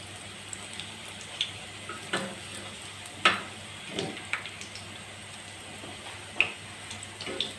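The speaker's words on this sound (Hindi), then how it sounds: "देखिए कितने खूबसूरत से गोल्डन गोल्डन से फ्राई हो रहे हैं।" Spinach leaf pieces frying golden in hot oil, a soft continuous sizzle broken by occasional sharp pops and small crackles, close and quiet.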